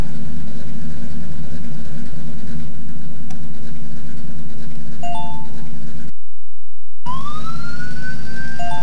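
A cartoon emergency vehicle siren from a kids' traffic video game, a rising electronic wail that sweeps upward over a steady engine-like game hum, after a brief dropout of sound.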